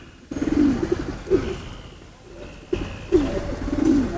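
Racing pigeon from a home loft, a 2022-tagged bird about a year old, coos in two short warbling bursts close by, with a quiet pause between them.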